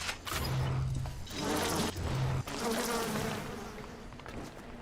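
Swarming bees in the BioShock video game drone loudly and steadily throughout, the buzz pulsing in waves with brief dips, while a voice shouts over it.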